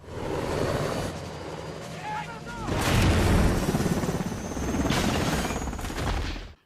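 A grenade strikes the tail rotor of a helicopter in a film scene, setting off loud bursts and booming blasts that swell and fade, mixed with rotor noise, and a voice talks at points.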